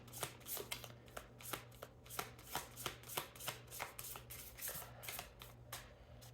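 Tarot cards shuffled in steady rapid riffles, a continuous series of soft papery slaps and flutters, close but faint, over a low steady hum.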